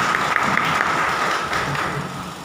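Sustained applause from a church congregation at Badussa Zion Church, many hands clapping at once in a continuous, moderately loud wash with faint crowd murmur beneath.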